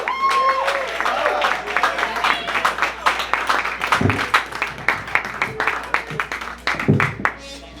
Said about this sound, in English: let's give a round of applause for our next performer coming up before we end this night